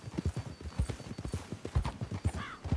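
Horse hooves clip-clop in a steady walking rhythm in Red Dead Redemption 2, close and clear with no talk over them.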